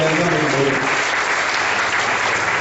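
A church congregation applauds the word of God, with a dense, steady wash of many clapping hands sustained throughout at close, loud level.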